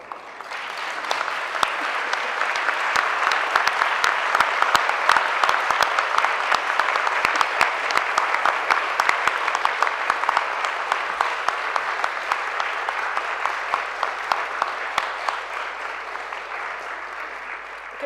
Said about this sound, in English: I'm going to invite you to applaud your families and all of the staff here at Goldsmiths